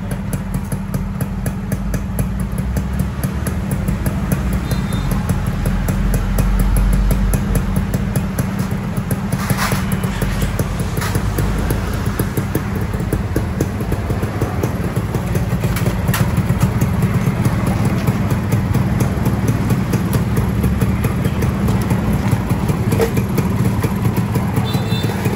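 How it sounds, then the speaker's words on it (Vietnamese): A Suzuki Xipo 99 motorcycle engine, fitted with an added electric starter, idles steadily and close up with a low, continuous rumble and no breaks for the whole stretch. "Cái nhẹ là nó nổ máy nha mọi người"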